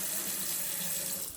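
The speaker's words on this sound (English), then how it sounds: "So I can actually run the water in here now" Water running steadily from a newly installed bathroom sink faucet, a continuous close hiss and splash of the stream hitting the basin.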